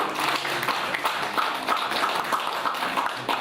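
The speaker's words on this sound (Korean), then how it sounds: "축하의 박수 부탁드리겠습니다" An audience at an award ceremony claps in congratulation, a brisk, continuous patter of many hands with sharp individual claps standing out, fairly close and with no voices over it.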